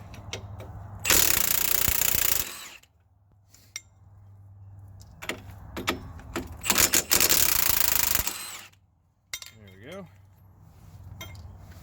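Impact wrench spinning the pinch bolt nuts off a wheel bearing hub assembly on a 1996-2020 Dodge Caravan or Chrysler Town & Country, two loud sustained whirring bursts close by with clinks and shop noise between them.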